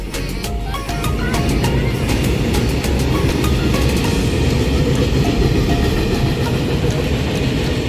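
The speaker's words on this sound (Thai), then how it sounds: "รถไฟมาแล้ว อยู่ตรงแกนแคนยอนก็จะมีรถไฟวิ่งผ่านนะครับ" A long train rumbles past close by near a quarry lake in Chonburi, Thailand, loud and continuous, with rhythmic clicking of wheels over rail joints throughout.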